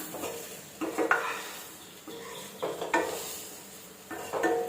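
Chili powder masala sautéing in a pan for kathirikai karamani kuzhambu, with a soft sizzle beneath several distinct scrapes and stirs of a spoon against the pan at irregular intervals.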